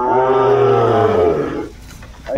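A Sahiwal bull calf at a cattle market gives one long, loud, close moo that fades after about a second and a half. Quieter market rustling follows.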